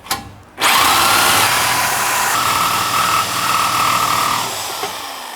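Power tool cutting through the lower cross member of a Jeep, starting abruptly after a brief quiet moment and running as a loud, steady whine for about five seconds before easing off, with no talking.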